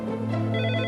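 A telephone rings late at night with an urgent emergency call, a short steady electronic ring pattern heard close and clear with no voices.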